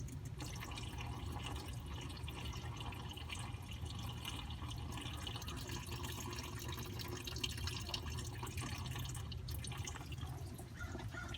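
Coolant from a Lexus RX 300 radiator drain dripping and dribbling steadily into a catch container, a continuous close liquid patter with no pauses across the stretch.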